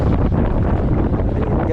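Strong wind buffets the microphone out at sea on a fishing boat, a dense, continuous roar with a voice faintly mixed in.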